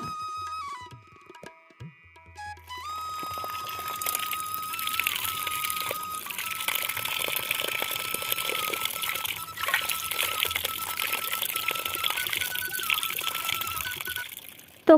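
Tap water pours steadily into a bucket, a continuous close gush with a faint high tone that fades in at the start, then runs without pause.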